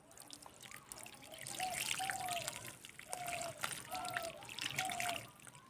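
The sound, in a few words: watering a pumpkin seedling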